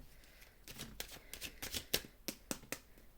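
Tarot cards being shuffled by hand, a series of crisp riffling bursts and slaps at an irregular rhythm, close and fairly quiet, with no talking.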